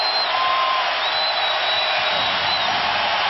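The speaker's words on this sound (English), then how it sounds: "And this crowd on its feet." Crowd on its feet cheering in a basketball arena at the 2007 NBA Finals, Cleveland versus San Antonio, a steady distant roar of voices heard through a muffled, band-limited broadcast.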